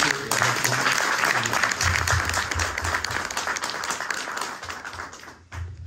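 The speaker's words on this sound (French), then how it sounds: "Applaudissez." Strong, sustained applause from an audience at a political meeting in Orsay, loud and continuous, dipping briefly near the end before resuming.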